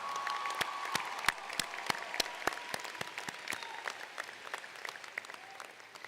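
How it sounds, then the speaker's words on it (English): Applause from a graduation commencement crowd at Daytona State College, a steady wash of clapping with sharp individual claps standing out, moderately loud and sustained, fading slightly toward the end, no voices over it. "Please, graduates, let's give them a round of applause to thank them."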